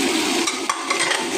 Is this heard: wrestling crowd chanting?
no